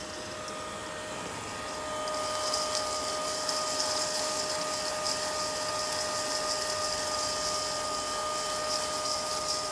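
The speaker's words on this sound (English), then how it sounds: "we're going to be using a hair dryer to blow out the shells and separate them from the nibs" A hair dryer blows a steady, even airstream across a bowl of cocoa nibs to winnow off the shells, starting softer and rising to full power after a couple of seconds, continuous and close with no talking.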